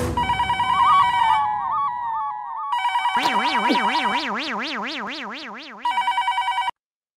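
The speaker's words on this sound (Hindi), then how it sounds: "अच्छा, मैं चंपक चाचा को फोन लगाता हूँ ना" A telephone rings loudly and up close in a synthetic electronic ringtone, with rapid warbling repeated bursts that shift in pattern before cutting off abruptly, heard alone while a call is being placed.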